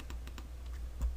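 Soft, quiet keyboard clicks while modeling in Blender 3.0, a few light taps spaced irregularly against a low steady hum.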